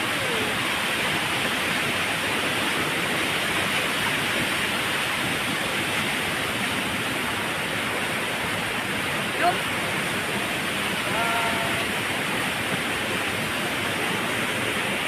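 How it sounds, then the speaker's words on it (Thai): Rushing water roars in a dense, steady wash, loud and continuous, like a strong flow pouring over a weir. "ดูน้ำแรงน้ำไหลแรงมาก"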